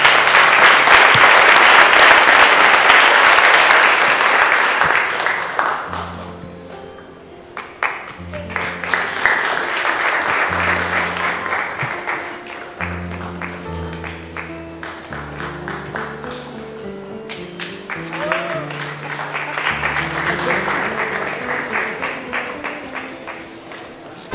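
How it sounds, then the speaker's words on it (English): Audience applause for panelists at a university tech expo, a dense loud burst of clapping that fades after a few seconds, then rises again in waves beneath music-like tonal notes and some speech. "Let's give them a hand."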